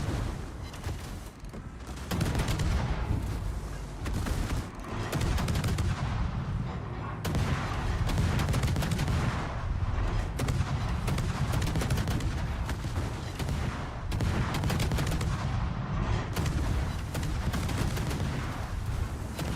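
Naval gunfire in World of Warships as ships trade high-explosive shell salvos, dense booming volleys and rumbling impacts that roll on continuously and loudly for the whole stretch.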